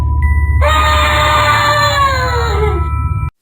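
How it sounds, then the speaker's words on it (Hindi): A cartoon character lets out a loud, sustained scream in a horror cartoon, shrill and close, wavering and slowly falling in pitch over a low background rumble before cutting off abruptly. "एक जोरदार की चीख मारता है।"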